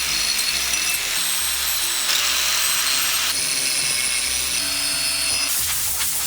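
A power drill bores a hole through cured fiberglass layup, a steady high-pitched whine with small shifts in tone, close and loud throughout with no talking.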